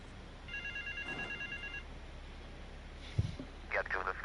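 A payphone in the video game Grand Theft Auto 3 rings in a short burst of electronic trills, faint under game sounds and voices, followed by a few scattered clicks and noises.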